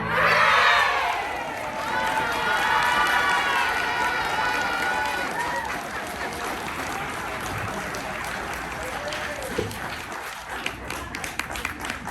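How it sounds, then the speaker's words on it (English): An audience at an elementary school play cheers loudly, with children's shouts and whoops on top at first, then settles into a sustained crowd roar and applause that stays fairly strong throughout. "We gather here, give us a cheer. Give us a cheer!"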